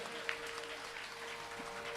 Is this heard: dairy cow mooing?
no